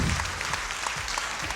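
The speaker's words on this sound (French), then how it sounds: "Applaudissez alors." A live comedy show audience breaks into applause, with dense, close clapping that stays steady and fairly loud for a short burst.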